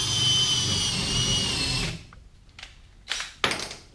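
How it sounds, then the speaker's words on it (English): A power drill whirs steadily for about two seconds, drilling a hole all the way through while cutting in seat base mounts, then stops; a few short clicks and brief bursts of handling noise follow. "we'll go ahead and drill a hole all the way through"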